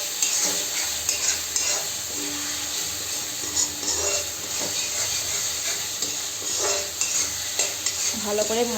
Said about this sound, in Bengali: এখন আমি গুঁড়ো মশলাগুলো দিয়ে দিব।